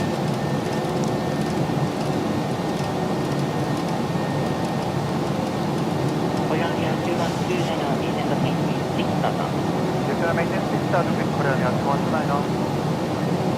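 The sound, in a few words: PMDG Boeing 737-800 jet climbing out, Microsoft Flight Simulator 2024 video game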